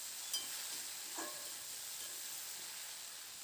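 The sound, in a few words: stir-frying poppy seed paste with potatoes and onions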